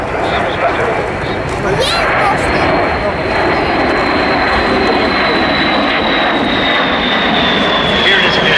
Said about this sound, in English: The B-52 Super Fortress Stratoforce.